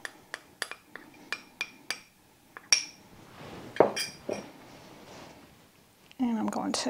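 A spoon stirs cinnamon into brown sugar in a bowl, making a run of light rhythmic clinks against the bowl, then scraping and stirring sounds, ending in a brief louder rustle.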